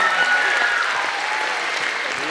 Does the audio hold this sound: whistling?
no